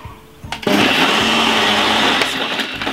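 A blender whips fresh mint and pineapple into a smoothie, kicking on after a short pause and running as a loud, steady whirring roar to the end, with a few brief dips in pitch.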